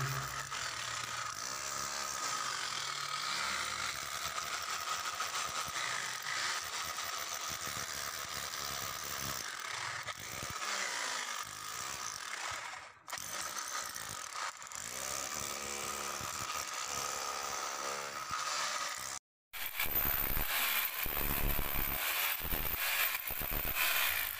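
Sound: drill machine used for husking

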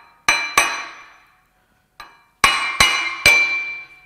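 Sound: tapping a part out of a Ford 4.9L straight six engine block

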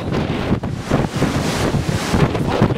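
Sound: strong wind

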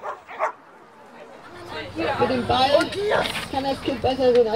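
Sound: dogs barking at a dog agility race

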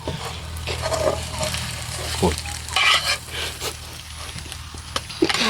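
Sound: eggs frying in oil

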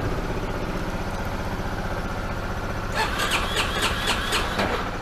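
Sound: Yamaha Ténéré 250 motorcycle engine cranking, trying to start

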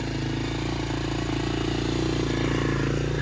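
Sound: diesel quad (ATV) engine at high idle

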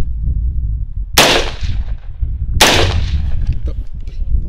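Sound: two gunshots fired without a suppressor

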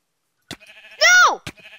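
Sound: sheep bleating in Minecraft video game

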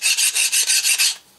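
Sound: metal file rasping off burrs

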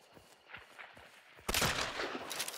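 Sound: gunshots in Hunt: Showdown video game

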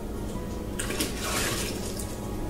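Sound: adding water for homebrew beer

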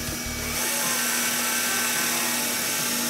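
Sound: power drill drilling a hole in a fence connector

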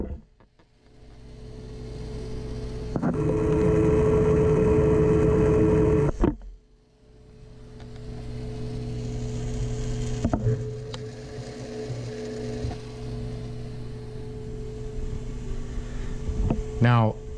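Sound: Taco circulator pump running, noise carried through the units

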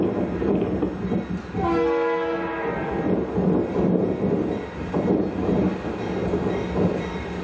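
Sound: northbound local freight train rolling into town

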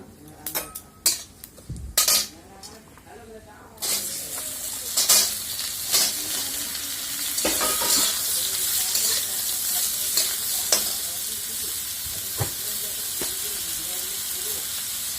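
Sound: raw mango pieces frying and stirred in oil

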